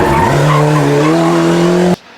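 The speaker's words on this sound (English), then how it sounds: "The Audi Quattro of Zippo and Dennis Pacino was also challenging hard for the top spot overall" A historic rally car on a stage of the Vltava Rallye gives a loud, close tire squeal and engine howl that holds for about two seconds, then cuts off sharply.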